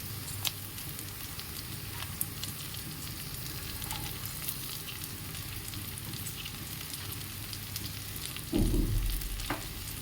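Chopped onions frying in a pan while cooking cauliflower paneer fried rice, a steady close sizzle throughout, with a louder burst near the end as more goes into the hot oil.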